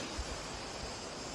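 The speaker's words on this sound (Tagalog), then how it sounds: "Siguro yun yung waterfall na sinasabi ng asawa ko." Water from a small waterfall among green pine trees in the hills of South Crete near Ierapetra, Greece, pours in a steady broadband rush, constant and fairly soft, with no voices.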